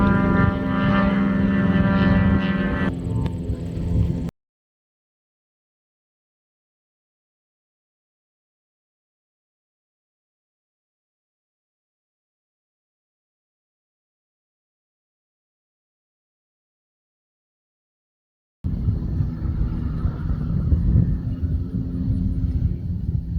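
A Sportsman 2+2 light propeller aircraft flies inbound to land at Brockville, a steady droning engine rumble heard at the start and again near the end, with a long silent gap between.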